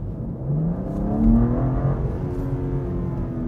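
BMW M2 engine revving in M mode, a steady low growl that swells and climbs in pitch then holds, close and fairly loud with no talking.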